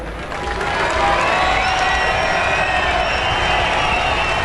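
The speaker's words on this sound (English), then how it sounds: "Carlos, the crowd making a lot of noise for you here" A home crowd at the Spanish Grand Prix in Barcelona cheers loudly and continuously for Carlos, a dense roar of voices and applause filling the air without letting up.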